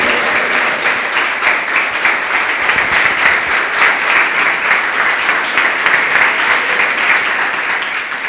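A church congregation claps steadily together, a loud, dense and continuous sound of many hands heard close up, with no voices over it.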